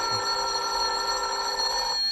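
An old-fashioned telephone bell rings continuously in a 1949 suspense radio drama, a bright, steady trill heard alone and fairly loud with no voices.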